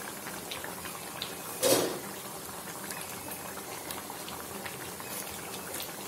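Chicken curry bubbles and thickens in a pot, with a soft steady simmering patter throughout and one brief louder clatter near the start, no talking.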